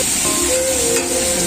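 Eggplant slices frying in hot oil in a pan, giving a close, steady sizzle and hiss with faint crackles, alone and continuous.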